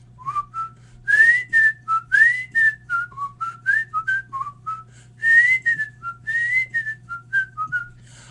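A person whistles a clear, lilting tune alone, with short melodic phrases and brief pauses over a faint steady hum.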